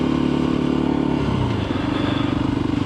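A Voge 300 motorcycle rolls slowly over gravel with a steady, loud, close engine drone that dips slightly in pitch partway through, the low thrum dominating with no voices.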